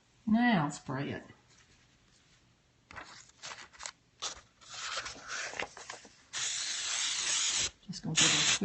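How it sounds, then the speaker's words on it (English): Hairspray is sprayed in short hissing bursts over a Bible journaling page to seal pan pastels, with one longer sustained spray near the end, close up, after a brief spoken remark. "now I'm going to give that a quick spray with my hairspray"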